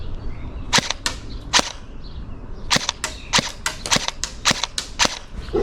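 Novritsch SSE18 airsoft electric gun firing single shots: sharp, loud cracks come in irregular bursts, with several quick clusters and brief pauses between them, heard alone at close range.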